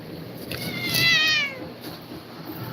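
A cat gives one clear, close meow lasting about half a second against quiet background noise, with no talk over it.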